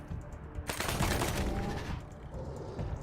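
Gunfire in the video game Wasteland 3, heard as a dense burst of rapid shots that hits suddenly, holds loud for about a second, then fades into a lingering rumble.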